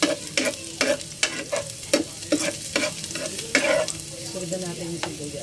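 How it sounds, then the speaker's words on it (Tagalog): Garlic and onion sauté in hot oil for chicken tinola, a steady close sizzle broken by repeated scraping strokes of a spoon or spatula stirring in the pan, roughly twice a second, with no talking. "Gisa muna natin yung bawang sibuyas."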